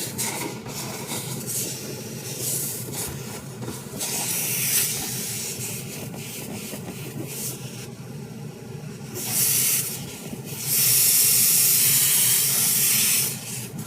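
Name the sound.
steamer hissing, heating up old glue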